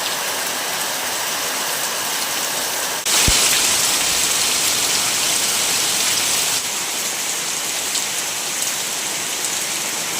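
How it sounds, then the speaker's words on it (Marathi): Heavy rain pours steadily outdoors in a garden, a dense continuous hiss with no voices, briefly swelling louder after a sharp knock, then settling back to an even roar. "आज हा पाऊस जाईल असं वाटत नाही आहे."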